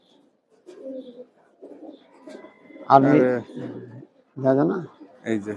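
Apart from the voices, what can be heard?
tournament pigeon cooing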